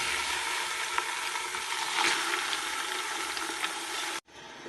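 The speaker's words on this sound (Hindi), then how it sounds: "चिकन ऐड करने के बाद अब हमने इसको अच्छे से फ्राई करना है।" Chicken sizzles loudly in hot oil with sautéed ginger and garlic while being stirred, a steady dense crackle with occasional sharper pops, close and alone, cutting off abruptly near the end.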